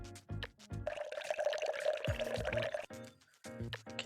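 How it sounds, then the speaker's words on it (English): Soy sauce pours steadily into a bowl of raw chicken with a sustained liquid trickle, partly buried under loud rhythmic background music. "Pour soy sauce."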